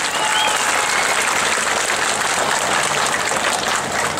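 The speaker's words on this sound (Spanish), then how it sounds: "¡Aplausos para la pareja número 4!" A large festival crowd at a concert and bullfight in Cuautepec, Guerrero, claps for dancing couple number 4. The applause is loud, thick and unbroken from start to finish, with no clear speech.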